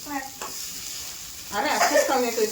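Fresh coriander stirred and fried in a pan of spicy vada pav filling at home, with a close, loud sizzle broken by scraping stirs that swell again toward the end.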